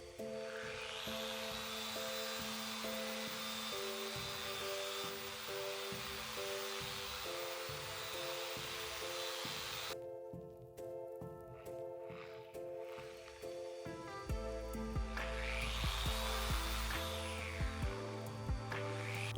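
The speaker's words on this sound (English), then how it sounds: "For bigger flat projects, I like to use a DA polisher to apply the Rubio" A DA polisher runs on a wooden entertainment center panel, applying Rubio finish, with a steady whirring drone throughout that shifts in pitch midway and grows rougher and louder near the end.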